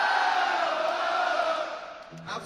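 A rock concert crowd at a show in Berlin roars and shouts in a broad, sustained wash of cheering that fades toward the end, where a brief sound cuts in.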